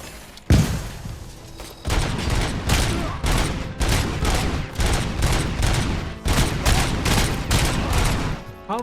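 Sustained gunfire in the RoboCop: Rogue City video game, a loud rapid string of sharp shots following a single heavy bang near the start. The shots pound steadily with almost no gaps, and no one speaks over them.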